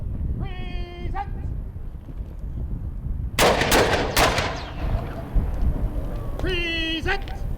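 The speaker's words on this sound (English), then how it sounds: "the Adelaide Regiment 1860 to 1865 will fire a ceremonial salute of 3 volleys" The Adelaide Regiment 1860 to 1865 fires a ceremonial rifle volley outdoors, two sharp cracks close together with a long rolling echo, placed between loud shouted drill commands.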